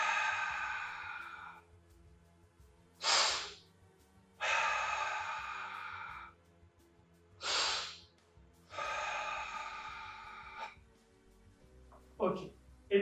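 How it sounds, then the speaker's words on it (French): Karate practitioner doing breathing drills: a sharp quick inhale followed by a long, slow, hissing exhale, repeated several times in alternating short gasps and drawn-out breaths, close and otherwise quiet. "Donc là, c'est inspire rapide."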